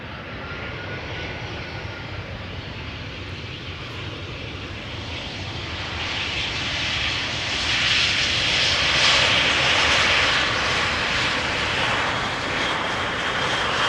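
A jet airliner's engines roar at Amsterdam Schiphol Airport, a broad rumbling whine that builds and swells louder midway as the aircraft passes, then holds near its peak.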